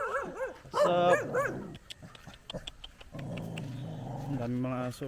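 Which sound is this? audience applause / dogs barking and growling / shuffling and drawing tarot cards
dogs barking and growling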